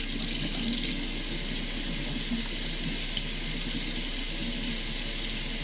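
Water runs steadily from a sink faucet while hands are washed, a constant close hiss and splash with no pauses and no voices.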